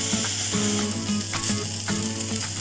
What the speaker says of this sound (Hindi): अब हमने एक बारीक कटा हुआ प्याज इसमें डाल करके बहुत अच्छे से फ्राई कर लेंगे।